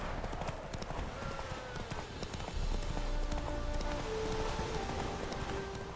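Horse hooves pound in a fast, steady galloping rhythm during a video game horse race, loud and continuous with light music beneath.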